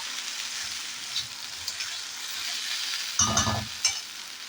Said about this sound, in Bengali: আগে ভাজাটা করে নিই, ঢাকা দিয়ে রেখে দিই